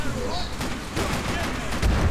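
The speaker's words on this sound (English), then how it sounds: "I was gonna turn around and shoot that guy, but he shot me first" Gunfire in the video game Max Payne 3 comes as a rapid cluster of sharp, loud shots over a couple of seconds, with faint talk mixed in.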